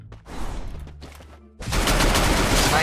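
Rapid gunfire in the mobile battle game Free Fire erupts suddenly and continues as a dense, loud burst after a stretch of game noise.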